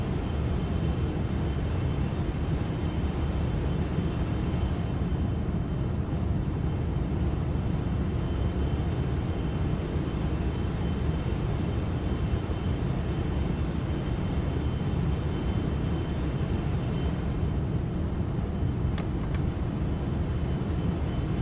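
Steady, continuous roar of airliner jet engines during final approach in the X-Plane 12 flight simulator, a broadband drone holding level throughout with no voices.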